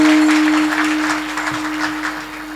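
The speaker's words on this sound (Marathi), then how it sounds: "टाळी वाजवा त्यांच्याबद्दल" An audience claps through a steady wash of applause at a Marathi comedy kirtan by Madhukar Maharaj Giri in Shirwali, over a constant electrical hum.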